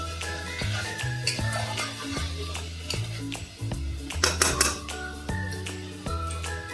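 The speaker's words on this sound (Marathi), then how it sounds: "आता परत परतून घेऊया." A spoon stirs and sautés chicken rassa in a pot, giving repeated scraping clinks and taps against the metal, close and fairly steady, over a continuous tonal background.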